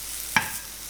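Halloumi cheese frying in a pan hisses softly while a single quick stir makes a sharp scrape and clack, then the gentle sizzle carries on.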